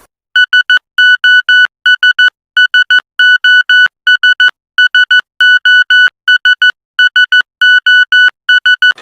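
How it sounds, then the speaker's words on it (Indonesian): Rapid electronic beeps tapping out the Morse code SOS signal, three short, three long, three short tones, looping several times with brief gaps. "Jadi sinyal SOS itu merupakan sinyal Morse code."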